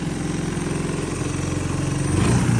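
A Honda three-wheeler engine running close by, a steady low throbbing idle that rises and swells as the throttle is blipped near the end.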